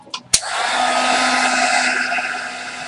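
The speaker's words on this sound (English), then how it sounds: "Wipe off my stencil and I'm gonna dry this up." A hair dryer switches on after a couple of brief clicks and runs with a steady, loud whirring blow, drying paint on a butterfly canvas after a stencil is wiped off.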